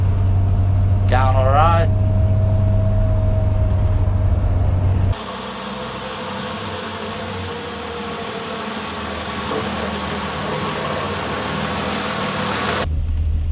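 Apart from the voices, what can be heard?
Triumph 2500 MK I engine revving then idling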